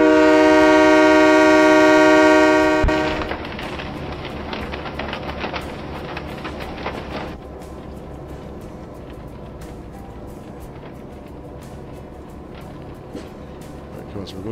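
Train rumbling along the tracks in the video game Train Mechanic Simulator 2017, opening with a loud sustained horn blast for about three seconds, then a steady rolling rumble with rhythmic clicks continuing throughout.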